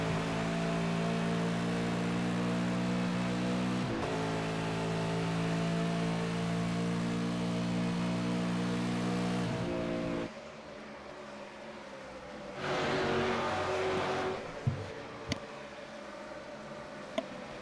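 Race cars lapping Road America in a sim racing game, a loud sustained engine drone with shifting pitch that drops away, then returns as another car passes, followed by a few sharp knocks.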